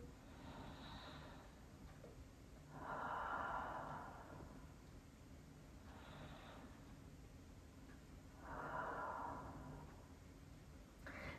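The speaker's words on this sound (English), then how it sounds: "Let's take three rounds of cleansing breaths, inhaling through the nose and exhaling through the mouth." Soft breathing during a yoga session, with two slow rounds of breath audible as gentle airy swells at a low, quiet level against faint room hiss, and no talking.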